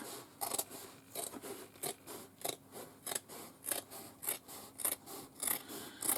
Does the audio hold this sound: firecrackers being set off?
no